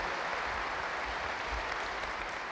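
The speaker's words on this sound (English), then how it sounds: "Let's give him a big round of applause." Conference audience applause at a general session in Berlin, a continuous even wash of many hands clapping at moderate level throughout.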